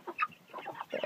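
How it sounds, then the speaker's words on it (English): A broody hen with chicks clucks in a quick series of close, soft calls, several short notes packed into about a second with no voices over them. "there's the one broody hen and the mama to them right there"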